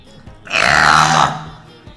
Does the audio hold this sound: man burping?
yes